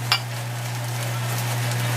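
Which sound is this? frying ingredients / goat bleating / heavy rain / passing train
frying ingredients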